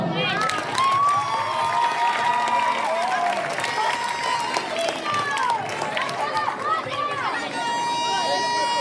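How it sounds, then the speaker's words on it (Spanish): A school group at an end-of-year time-capsule opening claps and cheers, a lively spread of applause with children's shouts and chatter mixed in, close and sustained. "Un aplauso."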